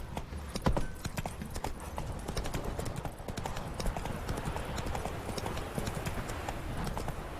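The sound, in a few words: horse galloping, hooves clip-clop, in The Witcher 3 video game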